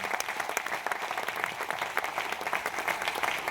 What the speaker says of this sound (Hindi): इन सारे लोगों के लिए एक जोरदार तालियां हो जाए।